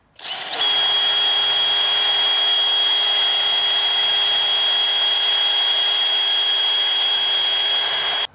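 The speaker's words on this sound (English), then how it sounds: "Now we can hit it with the drill." Power drill runs steadily and loudly for about eight seconds, boring into a welded, rounded bolt with a constant high whine from start to stop.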